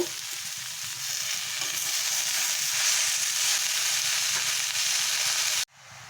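Spinach stirred into sizzling spices in a pan for a Bengali palong shak ghonto gives a loud, steady frying hiss with soft scraping stirs, cut off abruptly near the end.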